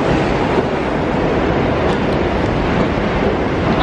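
A New York City subway train pulls out after its doors close, giving a loud, steady rumble of wheels on track heard up close without a break.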